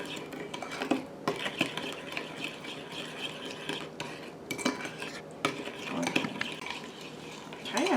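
A spoon clinks and scrapes steadily against a bowl while hot pepper sauce is stirred into Korean cucumber pickles, a close, continuous rhythmic clatter with brief pauses.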